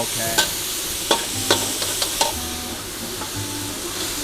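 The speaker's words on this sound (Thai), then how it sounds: "ผัดหมูสุกหน่อย" Pork is stir-fried in a pan with fish sauce, light soy sauce and oyster sauce. A continuous close sizzle runs under a few quick metallic clanks and scrapes of the spatula. No one speaks.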